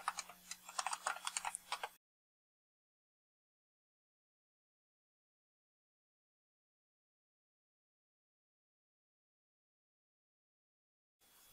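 A computer keyboard clicks out a password in a quick run of keystrokes for about two seconds. Near-silence follows until the end.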